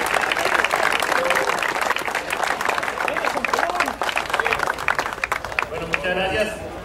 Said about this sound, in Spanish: Un fuerte aplauso para José Adrián.